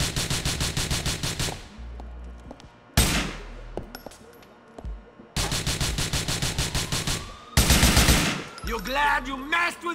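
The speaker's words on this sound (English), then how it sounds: "Look at the way he's shooting at us" Rapid automatic gunfire in GTA IV comes in long, loud bursts of tightly spaced shots, separated by brief pauses and echoing tails, with no talking over it.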